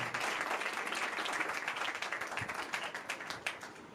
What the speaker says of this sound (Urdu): یسوع کے لیے زوردار تالیاں بجائیں